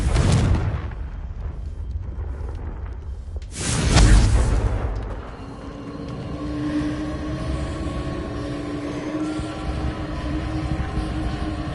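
A Confringo blasting spell from the video game Hogwarts Legacy bursts loudly in a single broad boom near the middle, set between stretches of rumbling, crackling game noise that fades into a quieter hum.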